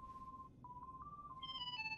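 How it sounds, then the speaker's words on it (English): A gummy phone ringing in Kingdom Hearts III: a thin, steady electronic tone with small chirps, then layered higher beeping notes join in, quiet and alone. "Sora, somebody's calling us on the gummy phone."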